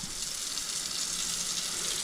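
A small amount of water runs from a tap or is poured while sushi rolls are being made, a quiet, steady, hissing flow with no talk.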